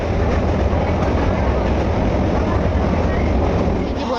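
Inside a moving passenger train, a loud, dense, steady rumble and rushing roar fills the whole stretch without pause.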